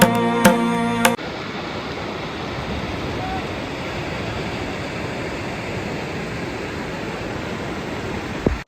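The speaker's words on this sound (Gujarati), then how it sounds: "વરસાદ પાછો ચાલુ થઈ ગયો જો ધોધમાર વરસાદ ચાલુ થઈ ગયો છે" Steady, dense broadband hiss of heavy rain pouring continuously, following a brief burst of other sound at the start.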